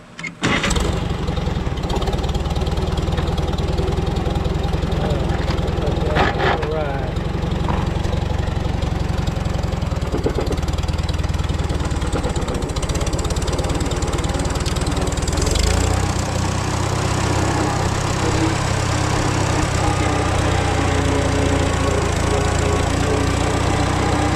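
A worn old Super A tractor engine with blow-by cranks briefly, catches, and settles into a loud, rough, continuous running rumble that carries on steadily throughout.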